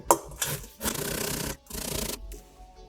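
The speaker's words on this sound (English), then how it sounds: "Use a little bit larger grater for the papaya." Green papaya is grated by hand on a larger hand grater, a few close rasping strokes, each a scratchy rubbing burst separated by short pauses.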